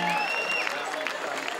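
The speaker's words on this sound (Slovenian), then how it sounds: "da imajo en velik aplavz." Concert audience applauding at an evening gala performance, a dense steady wash of clapping throughout with some crowd murmur and a brief tonal whistle-like trace early on.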